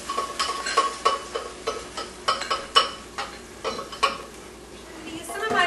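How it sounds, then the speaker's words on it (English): Salsa poured into a pan of softening onions, giving a soft wet pour and a faint sizzle, broken by several sharp clinks of a utensil against the pan. "Now I'm going to take my salsa that I have here, pour them in with the onions."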